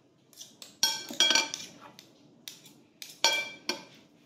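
A utensil stirs sotanghon noodles with sisig in a pan, producing bursts of metallic clinks and scrapes close by, irregular and separated by short quiet gaps.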